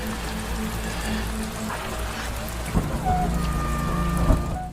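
Heavy rain pouring down at night, a loud, dense and steady hiss of drops with thunder-like rumbles underneath and a few sharper knocks.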